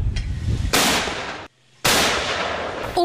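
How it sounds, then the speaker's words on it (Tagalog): Successive loud mortar blasts, two heavy bursts with a short gap between them, during a military offensive against BIFF fighters in Sharif Saydona Mustapha, Maguindanao. "Umalingaw-ngaw ang sunod-sunod na putok ng mortar sa pinaroroon na umano ng BIFF sa bayan ng Sharif Saidona Mustafa sa Maguindanao kahapon"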